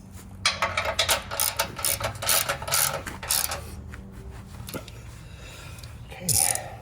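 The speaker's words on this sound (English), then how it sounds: "using a 5/8" socket, we're gonna go ahead and tighten that in place now." A ratchet with a 5/8 inch socket tightens a rock slider bolt on a Jeep JL Wrangler Unlimited frame, giving bursts of fast clicking between pauses, close and moderately loud, with a faint clunk near the end.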